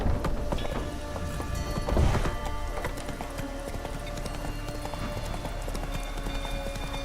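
Hoofbeats of Roach the horse galloping in The Witcher 3, a steady rapid clip-clop carrying through the whole stretch over game ambience and music, with one heavier thump partway through.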